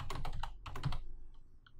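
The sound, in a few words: typing on a computer keyboard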